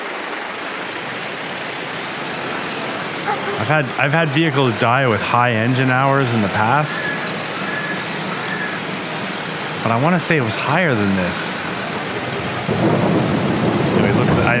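Rain falling in a farming simulator game with a hard economy setting: a steady, even hiss with rumbling thunder runs throughout beneath someone talking.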